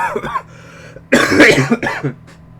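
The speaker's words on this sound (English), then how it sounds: "I'm constantly holding back a cough which is coming up now" A few harsh coughs burst out close by after a brief quiet stretch, followed by a short throat-clearing sound.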